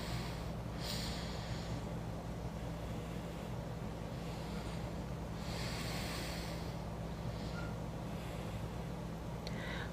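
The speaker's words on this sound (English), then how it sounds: "You're going to put your thumb down here on your nostril and go out and in." Steady nostril breathing during a single-nostril meditation exercise, slow exhales and inhales through one side of the nose with soft snorting rushes of air, close and fairly quiet over a constant low hum.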